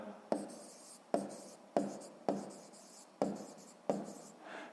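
Handwriting on paper during a sixth-grade math exercise, six short scratchy pen strokes in a loose rhythm, each a sharp onset fading quickly, close and quiet.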